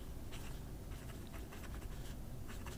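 TWSBI Obsidian fountain pen nib moving across paper, a soft, continuous scratchy hiss of writing, faint and close, with no speech.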